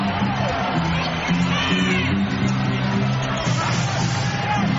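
Basketball arena crowd during a 1997 NBA playoff game, Rockets versus Sonics in Seattle, a steady dense roar of yelling and cheering with individual shouts poking through, continuous and loud throughout.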